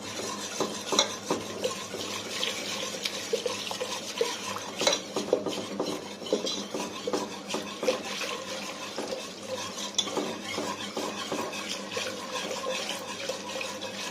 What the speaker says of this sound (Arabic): بص ايد بتقلب وايد بتنزل لبن